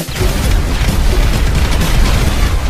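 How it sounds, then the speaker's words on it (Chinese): A cartoon explosion set off by a detonator switch erupts as a loud, sustained booming roar that stays dense and heavy for the whole stretch, with no speech. "雷德王在家里兴奋地等待，看看时间差不多了，直接按动了爆炸开关。"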